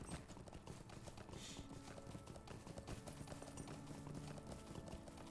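Horse hooves clip-clop steadily and continuously while riding in the video game Lord of the Rings Online, a fairly loud, even trotting rhythm over background game ambience with no talking.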